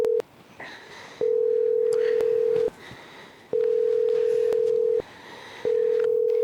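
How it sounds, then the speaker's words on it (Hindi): A phone on speakerphone gives a ringback tone, loud steady beeps about a second long repeating with short gaps, over faint background room noise. "फोन कर उसको जल्दी।"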